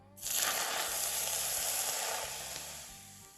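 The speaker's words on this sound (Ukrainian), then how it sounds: "виливаємо гарячу олію у гніздечко з часником та спеціями" Hot oil poured over garlic and spices for Korean-style carrots hits with a sudden loud sizzle that crackles steadily for a few seconds, then slowly eases off.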